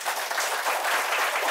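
Dense, even applause from an audience at a free public lecture in a hall, many hands clapping continuously at moderate loudness with no pauses across the short stretch.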